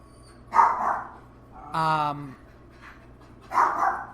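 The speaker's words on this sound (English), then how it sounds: "If you guys keep barking while I'm recording, this is going to come out terrible." Dogs bark a few times in separate bursts a short way off, with a harmonic yelp in the middle and a faint steady hum underneath.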